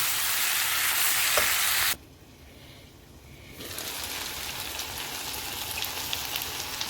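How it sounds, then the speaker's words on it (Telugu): Squid, brinjal and tomato curry simmers and sizzles steadily in a pan, a dense frying hiss that drops away briefly as the heat is lowered, then returns at a softer, even level with no talking. "కొంచెం సిమ్లో పెట్టుకొని, ఇప్పుడు సిమ్లో పెట్టుకోవాలి. సిమ్లో పెట్టుకొని మగ్గనిద్దామండి."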